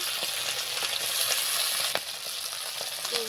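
Fish pieces sizzle steadily in hot oil in a pan for a village-style fish curry, a bright continuous hiss and crackle with occasional sharper spits and a faint clink of a utensil.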